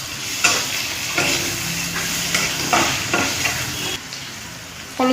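Fried potatoes with mustard paste and green chilli paste stirred in a hot pan, a loud steady sizzle broken by several scraping strokes of a spatula at a slow uneven rhythm, close by with no speech.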